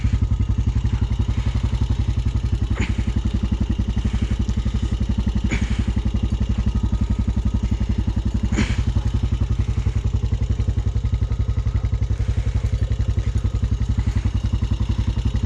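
Honda Rancher 420 ATV engine chugging steadily through soft, thick mud clay, a close, loud, even low-pitched thrum with occasional clanks and knocks from the machine.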